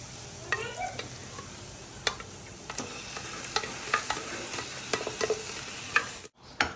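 Pav bhaji vegetables and spices get stirred in a pan: a continuous low sizzle broken by frequent clicks and scrapes of a spatula, close up, ending in a brief dropout, no voices.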